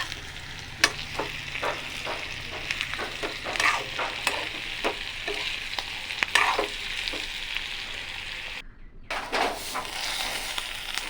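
Bitter gourd fries in a pan with a continuous close sizzle, broken by repeated scraping strokes of a spatula and one brief pause, with no speech.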